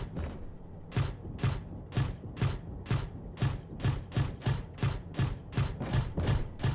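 M-2 Bradley vehicle gun in a video game firing a steady series of about a dozen evenly spaced heavy shots, roughly two per second, loud and close with no talk over them.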